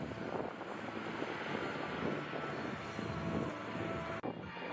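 A KC-130 propeller aircraft flies past at the Miramar air show, a loud continuous engine roar with wind buffeting the microphone.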